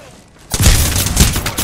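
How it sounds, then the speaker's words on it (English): Apex Legends gunfire erupts after a brief quiet moment into a loud, close, rapid volley of booming shots that runs to the end. "Taking fire"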